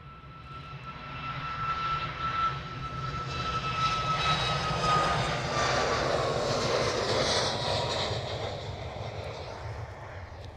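A fixed-wing airliner departs Manchester Airport at sunset, its engine roar swelling to a broad loud rush, then easing slightly as it climbs away.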